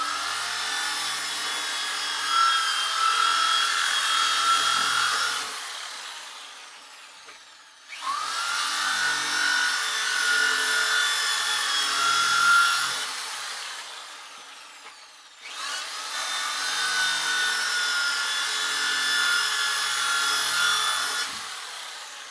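A brush scrubs the waxed base of a GNU B Nice 148 snowboard in three long passes, giving a steady, close, raspy rubbing with short gaps between strokes.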